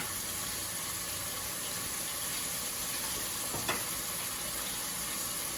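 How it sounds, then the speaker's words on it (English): Spinach stew base frying in the same pot used for the meat, a steady soft hiss of sizzling throughout with one brief scrape or clink near the end; no talking. "let that cook a little bit, let that fry a little bit"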